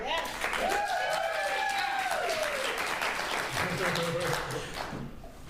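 Studio audience applause on a talk show fills the stretch as a steady, dense wash of clapping, with voices and laughter rising over it before it tapers off near the end.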